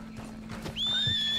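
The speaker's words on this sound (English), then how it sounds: "Where the hell is my horse?" A horse in Red Dead Redemption 2 clip-clops close by, then lets out a loud, rising whinny that carries to the end.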